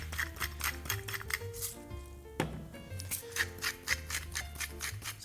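Fresh pepper ground over a chuck roast with a hand mill, repeated crunchy grinding twists in a steady rhythm, close and fairly loud, with background music tones underneath.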